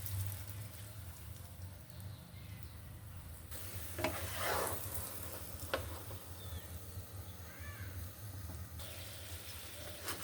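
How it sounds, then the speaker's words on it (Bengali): Soybean oil poured into a hot pan on a home stove gives a steady, moderate sizzle with a low background hum, and a few brief louder crackles break through partway. "এখানে আমি একটু সয়াবিন তেল দিয়ে দিচ্ছি"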